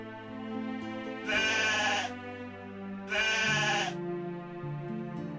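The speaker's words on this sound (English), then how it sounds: "Sheep." Sheep in Ultima IV bleat twice in clear, loud, close calls about two seconds apart, set over a looping game music background.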